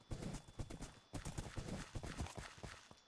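Horse hooves clip-clop in a rapid, uneven rhythm within the Minecraft video game, crisp close hoofbeats with a brief pause near the middle, alone without talk.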